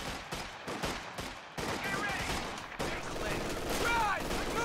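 Rapid gunfire in the Company of Heroes 2 war game: a quick run of sharp bursts up front, then denser, rougher combat noise with whistling tones, moderately loud and continuous.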